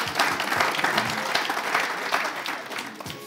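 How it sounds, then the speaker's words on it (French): Studio audience applauding a game-show contestant who just won the final prize on a weekly French-language entertainment broadcast; steady dense clapping at close range, fairly loud throughout, with some faint voices mixed in. "Applaudissements s'il vous plaît."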